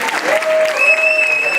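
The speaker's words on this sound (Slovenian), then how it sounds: "Dajmo en aplavz" Brief burst of audience applause at an event in the Kranj city library, dense and close, with a thin whistling tone running through it.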